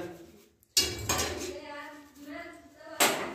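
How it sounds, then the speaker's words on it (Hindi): Dishes are washed after a meal, with plates and cutlery clattering and clinking in a few sharp bursts nearby. "अभी खा पी के मस्त बर्तन धो रहे हैं"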